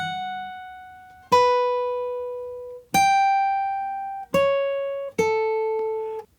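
Acoustic guitar plays the opening line of a theme from Clair Obscur: Expedition 33 in a fingerstyle arrangement, four clear plucked notes each ringing out and decaying, close and solo with no talking.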